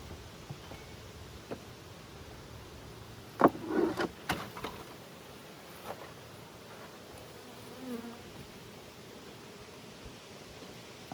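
Honeybees at a hive during an inspection give a faint steady buzz, with a few brief louder rustles and handling knocks near the middle and otherwise quiet hive hum throughout.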